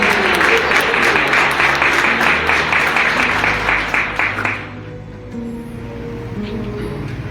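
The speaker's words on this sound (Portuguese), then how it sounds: "Aplaude o Senhor." A church congregation applauds loudly and steadily for several seconds, the dense clapping stopping fairly abruptly and leaving a low hum and faint room noise.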